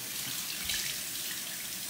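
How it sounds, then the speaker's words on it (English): Tap water runs steadily over a pair of cotton socks held under a faucet, a continuous soft splashing hiss with no pauses, close and moderately quiet. "you take your pair of cotton socks, you run it under tap water,"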